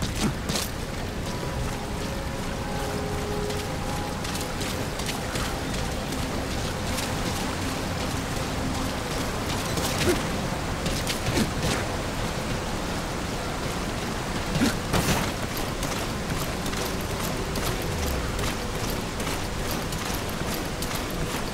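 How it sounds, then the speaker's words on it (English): Steady, dense rain hiss in Metal Gear Solid V fills the whole stretch at an even level, with a few brief louder splashes or knocks rising over the constant downpour; no voices. "Rain approaching."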